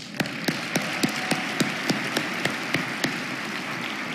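At a Martin Luther King Jr. holiday breakfast, the audience applauds Billy Still and friends. One sharp clap lands in a steady rhythm, about three or four per second, over a softer continuous wash of crowd clapping.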